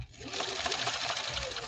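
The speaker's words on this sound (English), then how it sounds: "give a listen to this machine. Again, we're doing the yellow stitch now." Sewing machine, a 1965 Viking Husqvarna 2000, stitching a decorative pattern with a rapid, steady mechanical whirring and clatter, close and continuous.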